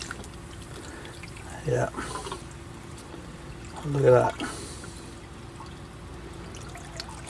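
Salty water with crud poured out of a container, two short splashing pours separated by a pause, close by, with a person speaking briefly.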